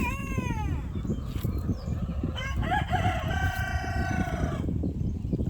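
A rooster crows loudly nearby, followed by clucking and another long crow from the flock, with a steady low rumble of background noise.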